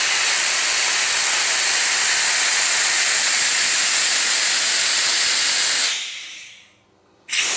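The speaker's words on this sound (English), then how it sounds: "A bit of air escaping from that." Steady, loud hiss of air escaping from a compressed-air line in a workshop, holding constant for about six seconds before fading out and then briefly bursting back.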